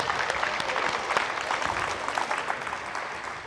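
Steady applause from a small group clapping for female players at a basketball coaching clinic, dense and continuous, fairly close, with faint voices underneath.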